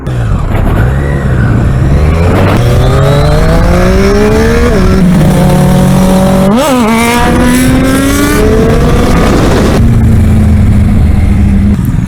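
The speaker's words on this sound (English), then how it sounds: "मैं पुल कर रहा हूँ and I'm not looking at my RPM." Superbike engine revving hard under acceleration on a Sunday ride, loud and close, with rising harmonic sweeps as it climbs through gears and several sharp pitch drops at shifts, continuous throughout.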